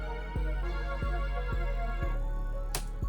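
Sustained brass section chords treated with a chorus effect, a thick layered tone punctuated by a few low thumping hits and a bright cymbal-like splash near the end, playing alone with no talk.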